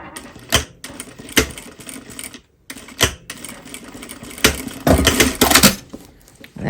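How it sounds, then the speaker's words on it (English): A domestic sewing machine stitching short backwards and forwards runs while sewing a pocket, delivering rapid mechanical clattering bursts with brief pauses between them, close and fairly loud. "here I am at the machine, and first of what I'm going to do is this little backwards and forwards here."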